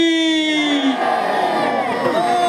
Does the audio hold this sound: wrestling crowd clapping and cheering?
yes